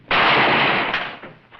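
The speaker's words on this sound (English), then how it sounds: "The gun went off, didn't it?" A single loud revolver gunshot cracks out sharply and then decays into a long, noisy echo that fades over about a second and a half, with a small thump near the end.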